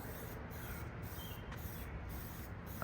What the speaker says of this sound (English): I think this is his 3rd coat of plasti dip on there.